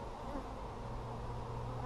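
Honeybees hum in a close, continuous drone during a summer hive inspection, with a steady low buzz and no voices.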